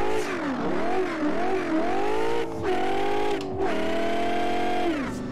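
A Mustang drifts in Live for Speed, its engine revving hard and wavering in pitch as the throttle is worked, with brief cuts between surges; loud, close and unaccompanied by talk.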